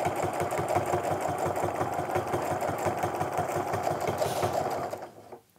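A home sewing machine stitches a quilt along a ruler with a rapid, steady mechanical chatter, running close and even before stopping just before the end.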